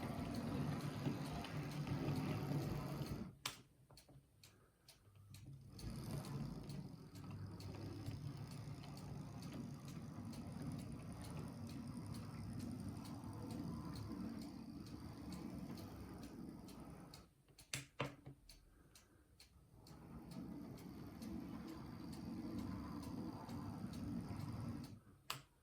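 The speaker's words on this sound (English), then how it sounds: "the only noise I can hear from that is metal wheels on metal track" A cheap toy locomotive runs its metal wheels along metal track, making a steady close whirring rumble with rapid rhythmic clicking from the rail joints. The sound drops out briefly twice, then resumes at a similar level.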